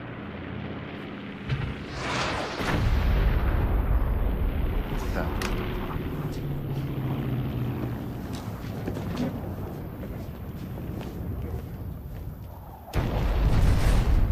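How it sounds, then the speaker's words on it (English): Heavy explosions, like an ammunition dump blowing up, rumble loud and deep in a movie scene, with sustained booming roars and crackling debris that continue almost throughout, a fresh blast hitting near the end. "An ammo dump? If this place blows up, God help us."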